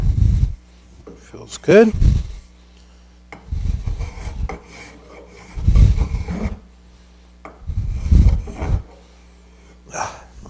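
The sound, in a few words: shaping a wooden furniture leg with a fine rasp and file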